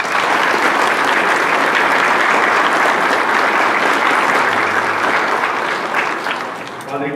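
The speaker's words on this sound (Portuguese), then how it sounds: "Nós acolhemos o Padre Rodrigo, então, com uma salva de palmas." Congregation in a church applauds to welcome a new priest at Sunday Mass, a dense, loud wash of clapping that holds steady for several seconds before thinning slightly toward the end.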